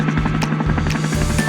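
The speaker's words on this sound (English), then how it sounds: "Helicopter" A helicopter's rotor thumps in a fast, steady rhythm, loud and close, with a constant engine whine beneath.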